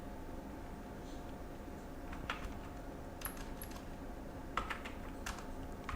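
Keystrokes tapped on a computer keyboard while entering text into a Figma design, arriving as scattered light clicks and short bursts over a steady background hiss, fairly faint and with no talking.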